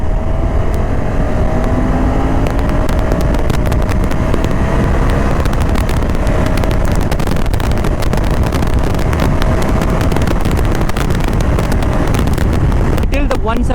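Honda Africa Twin Adventure Sport motorcycle riding fast on an open road: loud, steady engine drone buried under heavy roaring wind buffeting the microphone, continuous throughout, with a rider's voice faintly present.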